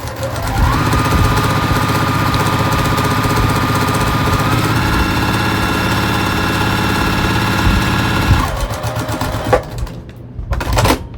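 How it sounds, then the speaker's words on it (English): A sewing machine stitches quilt fabric for half square triangles, running in one long, loud, close whir for several seconds before slowing and stopping with a few clatters. "I'm going to sew a 1/4 inch on both sides of that line to make my 2 at a time half square triangle"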